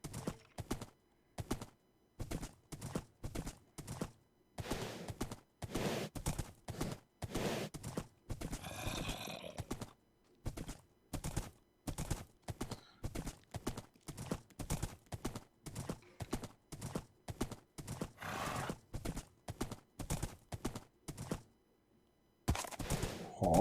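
Horse hooves clip-clop in a steady, rapid rhythm in a Minecraft world, with a brief neigh partway through, near and clear, with no talk over them.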